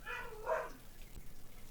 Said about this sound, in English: I don't know why she's barking.